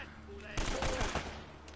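Enemy gunfire in Uncharted: Drake's Fortune, a short loud burst of rapid shots erupting after a quiet moment, then trailing off into game ambience.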